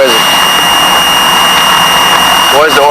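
Both engines of a Piper Seneca twin-engine aircraft run loud and steady after start, a close, continuous droning roar with a high whine, while voices talk over it in the cockpit.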